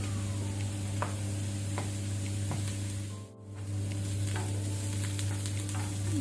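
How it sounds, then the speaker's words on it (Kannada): Onions sizzling and frying in a pan over a medium flame for a garlic egg dish, a steady close crackling hiss with faint stirring scrapes and no talk. "ಈರುಳ್ಳಿಯದ್ದು ಸ್ವಲ್ಪ ಕಲರ್ ಚೇಂಜ್ ಆಗೋ ತನಕ ಮೀಡಿಯಂ ಫ್ಲೇಮಲ್ಲಿ ಫ್ರೈ ಮಾಡ್ಕೊಳ್ಳುವ"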